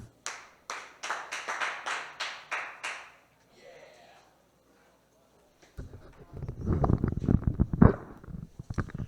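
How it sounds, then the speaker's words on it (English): Audience claps for a comedian at a comedy show: a run of sharp, spaced claps, a brief lull, then a burst of louder, denser clapping and crowd noise. "a big round of applause for the one and only Ouija."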